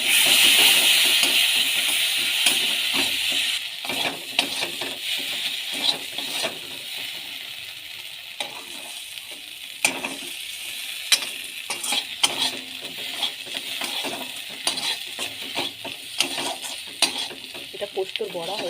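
Poppy-seed paste fritters sizzle in hot oil in a pan, a continuous crackling hiss with frequent clinks and scrapes of a metal utensil against the pan; no talking.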